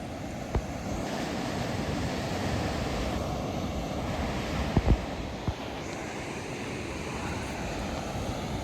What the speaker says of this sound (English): Big waves in these parts, which is why beaches around here can be very popular with surfers.